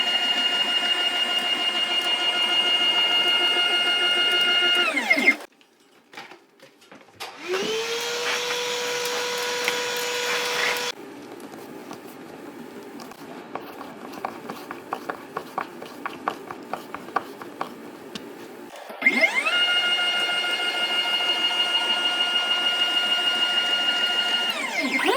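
A CNC router cuts a carbon fiber ESC adapter plate for a Strato 8S. A loud, steady, high machine whine runs for several seconds, breaks off, gives way to a stretch of scattered crackling, then the whine returns at full strength.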